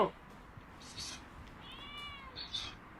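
A cat meows faintly a couple of times, with a soft, drawn-out cry near the end over quiet background noise.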